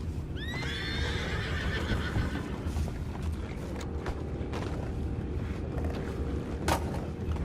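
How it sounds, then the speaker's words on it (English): Horses in Red Dead Redemption 2 give a loud whinny near the start, then snort and shift amid clip-clopping hooves, creaks and a steady outdoor ambience, with no talk. "You mind the horses?"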